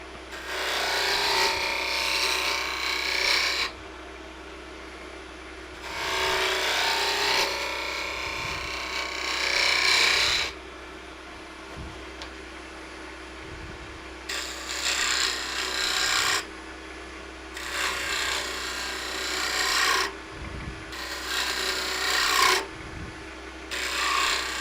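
An ash nut bowl spins on a wood lathe while a tool cuts it in repeated bursts, each a loud, bright scraping rasp lasting a few seconds, separated by quieter stretches of motor hum.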